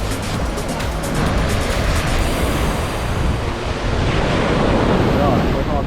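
Ocean surf washes steadily onto the white sand of Hyam Beach in Australia, a loud continuous roar close by, with heavy wind buffeting the microphone throughout.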